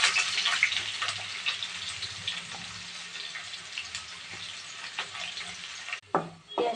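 Chopped onions frying in oil in a wok, a bright continuous sizzle close by that gradually eases, then a brief clatter of stirring near the end.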